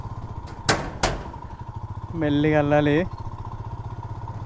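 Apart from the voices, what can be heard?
motorcycle riding across a suspension bridge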